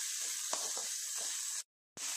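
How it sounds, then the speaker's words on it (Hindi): Chopped onion sautéing in a pan for an Indian-style vegetable pasta gives a steady, fairly loud hiss and sizzle that cuts out briefly near the end, then resumes. "इसे सौटे कर लें।"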